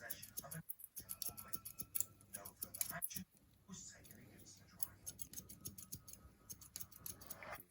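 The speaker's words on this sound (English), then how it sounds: "when you scissor over comb, it's pretty much your comb moves half the speed of the scissors" Rapid, crisp snipping of scissors close by cutting hair over a comb, clicking in quick irregular bursts with soft movement and faint whispery sounds between cuts.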